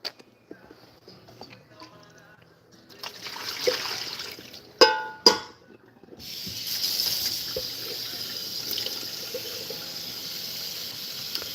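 Cold tap water running into a large pot of chicken, starting after some quiet handling noises and two sharp knocks, then a steady close gush of filling water continuing to the end.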